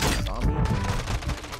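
Quick pistol shots crack in rapid succession during a tense shootout in the game The Haunting, with a voice talking over the gunfire.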